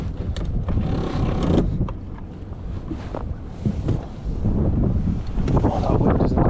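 Strong wind buffeting a microphone aboard a power boat manoeuvring in tide, loud, gusty rumble rising and falling in bursts, with faint talk mixed in.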